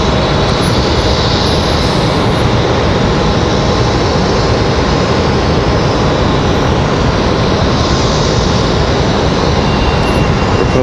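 A Delta airliner arrives and lands at Raleigh-Durham airport, a steady, loud broadband engine roar that holds evenly throughout without a break.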